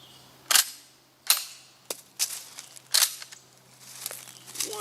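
Fire-damaged Remington 1100 shotgun firing with a gas-system fault that stops it ejecting shells: five sharp, nearby shots at uneven intervals, each with a short decaying tail, no talking.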